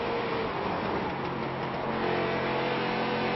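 Race cars run laps at Bristol Motor Speedway, their engines a continuous dense roar that swells slightly toward the end, heard at a distance with no nearby voices.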